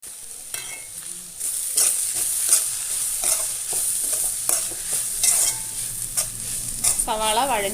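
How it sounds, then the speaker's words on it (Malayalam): Green chillies and onion sautéing in a pan, close loud sizzling with repeated rhythmic spatula scrapes and clanks against the pan, a brief tonal squeal near the end. "പച്ചമുളകും ചേർത്ത് കൊടുക്കാം. നല്ലതുപോലെ ഒന്ന് വഴറ്റിയെടുക്കാം."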